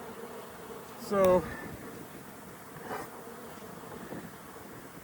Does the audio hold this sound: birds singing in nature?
no